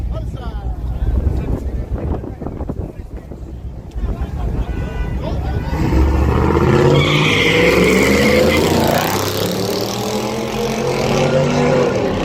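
Nitrous-fed 5.3 race car launching and accelerating hard down a strip, a loud sustained engine roar with rising pitch building from about six seconds on, preceded by crowd chatter and wind noise, with talk over the start.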